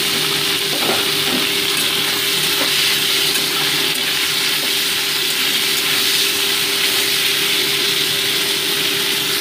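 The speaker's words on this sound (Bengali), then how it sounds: "এবার ওই তেলের ওপরেই নুন মাখানো কফি টুকরোগুলোকে মোটামুটি ভেজে নিচ্ছি।" Salted cauliflower pieces fry in a pan of oil left over from frying boal fish, giving a steady, dense sizzle with faint crackles and light clinks throughout, close and without talk.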